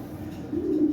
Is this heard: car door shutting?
no